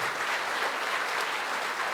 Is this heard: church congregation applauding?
yes